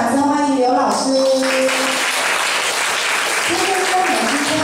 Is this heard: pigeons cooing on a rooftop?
no